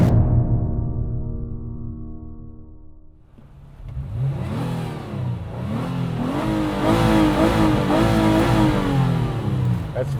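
A used V6 car with a CVT transmission idles with a steady hum out in the desert, then its engine revs hard and climbs in repeated rising whines, growing louder and close by.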